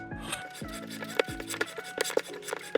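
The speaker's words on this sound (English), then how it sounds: "I'm only going to file in the one direction where I know it's cutting metal off." A metal file rasps on a metal wedding band being resized, in short, regular forward strokes, a close, dry scraping repeated several times.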